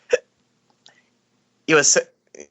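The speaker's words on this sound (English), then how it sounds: "this is causing me to have the hiccups" A person hiccups several times in short, sharp bursts, close to the microphone, with one longer voiced hiccup among the quieter ones and brief silences between them.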